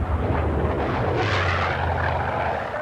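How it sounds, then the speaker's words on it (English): Scaled Composites Pond Racer, a lightweight twin-engine racing plane, roars steadily and loudly throughout with a continuous engine drone and no voices. "The Rutans believe they have the right aircraft, a new lightweight speedster called the Pond Racer"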